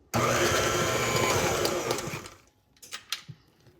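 An electric mixer beats pound cake batter in a steady, loud whirring buzz for about two seconds, then shuts off, leaving a few small clinks and knocks.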